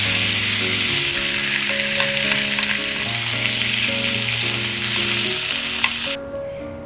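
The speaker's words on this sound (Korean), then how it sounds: "양파가 카라멜색이 날 때까지 노릇해지게 잘 볶아주고" Onions with salt, pepper and oregano sizzle loudly as they are stir-fried in a pan until caramelized, a dense steady crackle with light stirring scrapes over background music, then the sizzle cuts off near the end.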